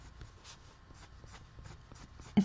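Pen scratching wood grain lines onto paper in a coloring book, faint rhythmic strokes repeating about twice a second, close and quiet, ending with a soft knock.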